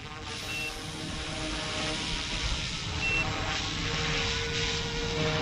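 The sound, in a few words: RC helicopter WOLFBUSH Airwolf AW-911 flying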